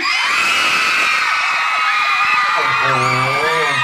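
A large crowd screaming and cheering loudly and continuously at a live event at Big C in Tak, high shrieking voices blending into one sustained roar.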